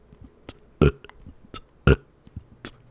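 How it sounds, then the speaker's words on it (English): Two loud, deep burps stand out sharply from a quiet room, each short and forceful, with a few fainter clicks and small mouth noises scattered between them. "That's 2 burps."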